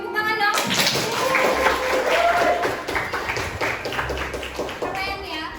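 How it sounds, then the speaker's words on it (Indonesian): Applause in a classroom from a group of students, a dense patter of many hands clapping over several seconds with children's voices chattering throughout. "Oke, tepuk tangan dong."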